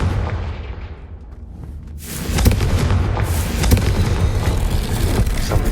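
In the Hogwarts Legacy video game, a Confringo blasting spell explodes with a loud, broad boom. A crackling, fireworks-like roar follows and holds steady until the end.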